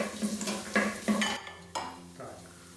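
Carrots and onion sauté slowly at about 160 degrees in a TESLA EliteCook K70 electric pressure cooker, with a spoon scraping and clinking against the pot over a soft sizzle in several close, irregular strokes.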